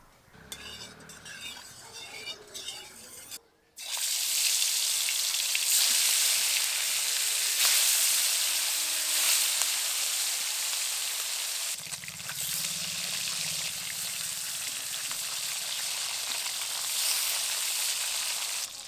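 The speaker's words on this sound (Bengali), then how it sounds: "প্রথমে আমি মাছগুলো ভেজে নেব।" Pieces of snakehead fish fry in hot mustard oil in a wok, a loud continuous sizzle that bursts in after a short stretch of stirring clinks and holds steady, with occasional utensil scrapes.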